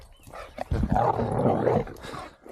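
Dogs, including a lurcher kept on the lead, out on a run, with one giving a loud, close, drawn-out whining bark lasting about a second, framed by quieter outdoor rustle and movement.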